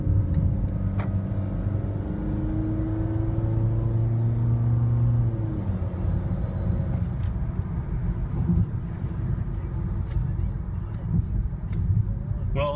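A 2015 Honda Fit EX-L accelerating on a test drive, its engine note climbing in rising tones before settling, steady road rumble and cabin noise up close throughout.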